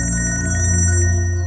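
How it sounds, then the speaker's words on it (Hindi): Mobile phone ringtone playing a steady electronic melodic tone, loud and close, lasting the whole short moment with no voices. "आपका फोन बज रहा है।"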